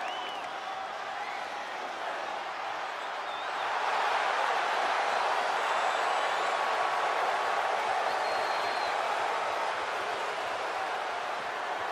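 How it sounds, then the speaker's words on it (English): A wrestling arena crowd at a Survivor Series match roars in a dense, steady wash of cheering that swells louder after a few seconds and holds. "Everyone's cheering right now."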